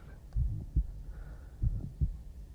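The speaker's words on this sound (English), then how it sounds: "Let daddy's heartbeat ease your worries." Close, muffled heartbeat of a man's chest, deep paired thumps pulsing steadily at a calm pace over a soft low hum, with no speech.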